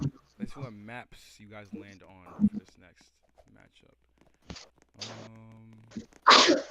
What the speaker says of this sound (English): Bless you, whoever just sneezed.